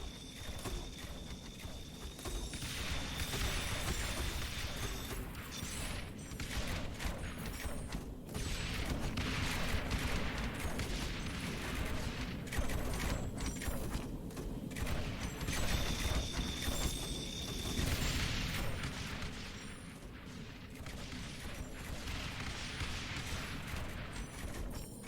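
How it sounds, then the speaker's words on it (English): Mortar fire in a video game, with repeated muffled booms and crackling blasts spread steadily across the stretch over busy game ambience and mechanical noise, at moderate volume with no clear pauses. "We can just do some low ground mortars here."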